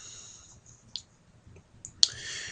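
Sharp, isolated computer mouse clicks while working in Alpha Five v11 software, a couple of faint taps followed by one crisp, louder click near the end over quiet room tone.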